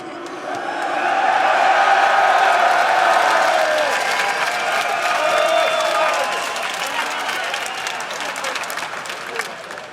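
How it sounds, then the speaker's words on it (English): Crowd at a League of Legends LCS EU esports match between The Alliance and Copenhagen Wolves applauding and cheering, a dense sustained roar of clapping and whoops that swells early and tapers off slightly, loud and close. "Frog said the crowd at All Stars was better, but I gotta admit that today you guys really stepped up"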